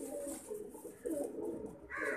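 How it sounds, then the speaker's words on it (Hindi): A large pigeon coos in soft, repeated low calls, fairly close and alone with no talking. "बिग वन बहुत बड़ा कबूतर है भाई।"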